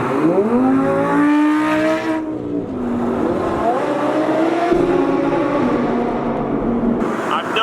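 A car accelerating hard at full throttle and briefly losing traction: a loud, close engine note climbs steeply, breaks at a gear change, then pulls upward again without pause.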